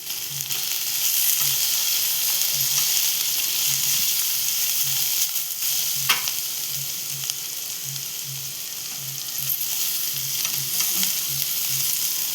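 Onion softening in a pan with asafoetida, turmeric and coriander, a steady close sizzle of frying running throughout with a faint rhythmic low thumping underneath.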